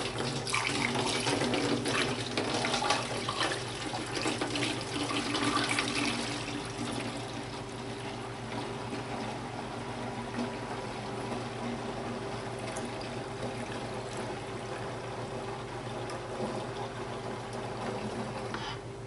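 Black cherry wine must is poured into a plastic jug, giving a continuous splashing, gurgling liquid stream that stays steady and close throughout, slightly louder at the start, with no talking.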